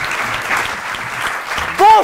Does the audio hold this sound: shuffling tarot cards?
no